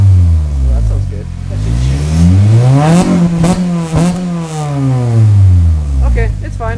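A car fitted with an N1-style exhaust revs repeatedly, loud and close, the engine note climbing and falling in several sweeps, with people talking over it.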